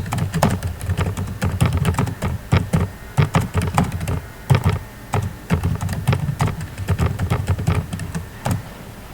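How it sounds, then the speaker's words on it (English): Rapid, uneven keystrokes on a computer keyboard as a lengthy comment is typed into an Excel cell, close and fairly loud, with bursts of clicks and short pauses and no talking. "Now for the second student, I am going to type a lengthier comment."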